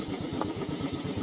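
Bajaj Pulsar motorcycle idling close by on a rough off-road trail, a steady, quiet low putter with even rhythmic pulses and no voices.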